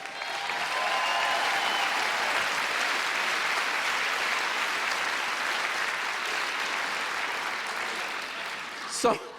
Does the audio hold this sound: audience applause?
yes